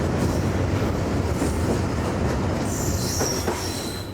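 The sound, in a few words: train with brand-new coaches running past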